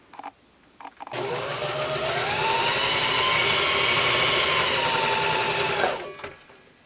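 A sewing machine runs steadily for about five seconds, stitching through a disposable filter with a loud, even mechanical whir that starts abruptly and stops, with faint handling noises before and after.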